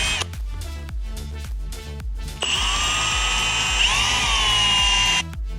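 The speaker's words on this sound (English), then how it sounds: "now I'll just drill a really small hole in each." A drill bores small holes in a motorcycle part for a KTM 530 tracker build, its whine running steadily in two stretches with a brief pause between, close and loud, no talking.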